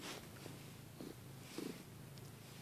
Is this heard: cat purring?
yes